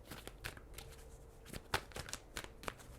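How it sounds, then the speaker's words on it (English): Tarot cards are shuffled by hand close up, a quiet run of soft riffling snaps and slides at an uneven pace with a few sharper flicks. "All right, let's shuffle, Pisces."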